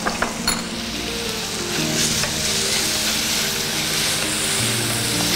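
Cashews fry in a pan with a steady, close sizzle and crackle, with a few stirring scrapes and metallic clinks of the pan near the start.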